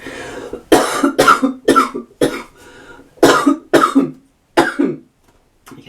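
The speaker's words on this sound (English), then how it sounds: "I still have a cough." A person coughs repeatedly in close, harsh bursts, several rapid coughs in clusters with short pauses between fits.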